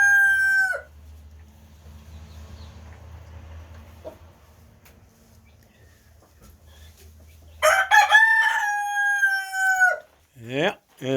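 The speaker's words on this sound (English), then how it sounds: "that's the rooster that never shuts up" A farm rooster crows loudly and close by, once at the start and again in a long call near the end, with quiet low farmyard rumble in between.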